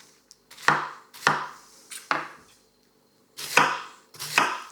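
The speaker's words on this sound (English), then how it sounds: "That's all I was doing was drifting the knife through the cabbage." A very sharp kitchen knife slices through cabbage in five crisp crunching cuts, each ending in a soft thud on the board, with a short gap before the last two strokes, close and with no speech.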